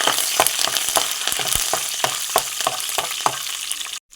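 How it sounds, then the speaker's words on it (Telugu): Curry leaves frying in hot tempering oil for a gongura pickle, a steady close crackling sizzle with sharp pops scattered throughout, cutting off abruptly near the end. "తాలింపులో వేగుతుంది కదండి"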